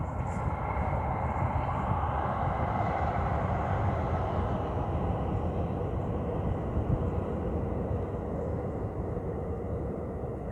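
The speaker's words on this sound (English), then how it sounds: "some trains are louder than the others" A steady, loud rumbling roar of a train passing nearby, holding constant for the whole stretch without letting up.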